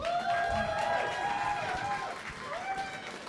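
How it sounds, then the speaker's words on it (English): Crowd applause for the winning team at a student union elections results night, a thick burst of clapping and cheering with voices mixed in, loud at first and easing off slightly toward the end. "can I get a massive round of applause for the winning team?"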